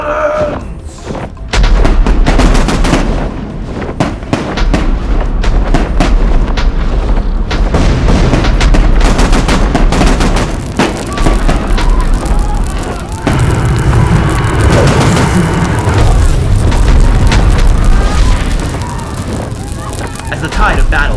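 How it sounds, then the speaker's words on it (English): Cannon fire and explosions in a skyship battle scene, heavy booms and thuds layered over a loud, dense battle din, with a voice speaking through part of it. "Fire the cannons!"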